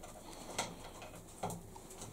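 Cheek-feathered pigeons kept by a breeder coo softly outdoors, with a few low calls and a couple of brief sharper sounds over faint ambient noise.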